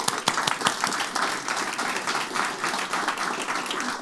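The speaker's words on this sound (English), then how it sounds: "Please give yourselves a round of applause." An afternoon audience at a food biodiversity event applauds itself: a few sharp, close claps at the start quickly swell into steady, moderately loud group clapping that carries on evenly to the end.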